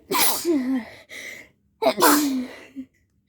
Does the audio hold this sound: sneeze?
yes